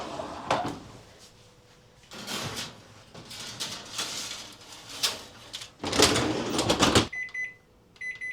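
A tray of pumpkin cookies slides into a home oven, with a run of loud clattering bangs and a door shutting, then a few short electronic beeps near the end.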